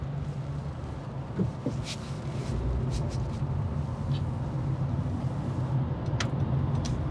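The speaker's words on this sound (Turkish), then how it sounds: "Şu anda gazla gidiyoruz yani." A Honda City 1.5 i-VTEC sedan running on LPG, a steady low engine and road hum heard from inside the cabin at moderate level, with faint clicks and no talk.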